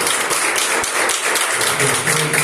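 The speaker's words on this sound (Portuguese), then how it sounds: "Dê um aplauso bem forte a Jesus." Church congregation applauding during a service, a dense, loud wash of clapping that runs steadily through the whole stretch.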